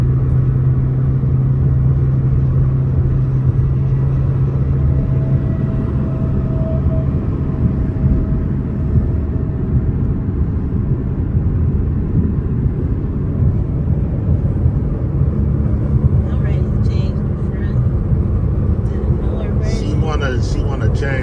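Inside a Dodge Charger on the move, a steady low road-and-engine rumble fills the cabin at an even level throughout, with a faint higher whine in places.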